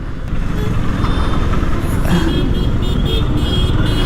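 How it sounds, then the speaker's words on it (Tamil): Heavy road traffic in Pondicherry roars loudly and continuously, with engines of cars, trucks and motorbikes blending into a dense rumble and brief tonal horn notes rising above it in the second half. "சரியான டிராஃபிக்குங்க பாருங்களேன், செம்ம டிராஃபிக்குங்க பாண்டியில்"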